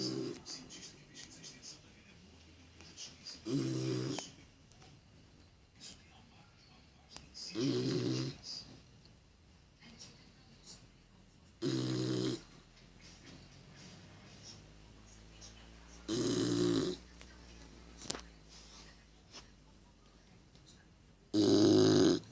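A sleeping dog snores in slow, regular bursts, about five loud rasping breaths spaced several seconds apart, close up against a quiet room with faint background noise.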